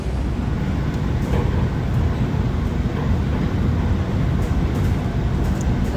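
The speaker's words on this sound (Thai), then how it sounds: "รถไฟสายสีเหลืองเลยจ้ะที่จะไป ซีคอนเนาะ" A steady rumbling hum of a Yellow Line metro train in motion in Bangkok, continuous and fairly loud, with faint high clicks and rattles over the drone.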